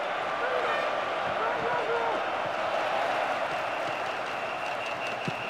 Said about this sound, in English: Crowd are roaring themselves hoarse.